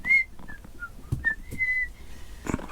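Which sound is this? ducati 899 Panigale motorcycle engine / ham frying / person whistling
person whistling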